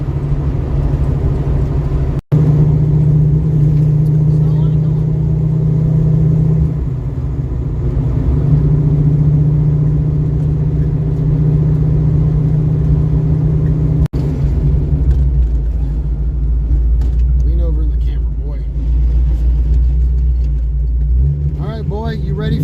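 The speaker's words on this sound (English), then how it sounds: "The car is so loud." A loud manual-transmission car drives along a rough road, a steady heavy rumble and drone from inside the cabin with sharp knocks, under occasional talk.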